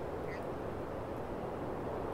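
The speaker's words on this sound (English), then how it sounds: "Oh, look, the birds." Ducks quacking among birds in The Sims 4 game world, a faint, steady layer of soft quacks over a low ambient background.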